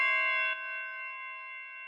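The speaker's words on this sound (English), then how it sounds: "Here, the turbulent bells, I just pan it to the left a little bit" A turbulent bells synth instrument, panned left in a chiptune pop track, rings a sustained bell-like chord that decays gently over two seconds, then is cut by a sharp thump right at the end.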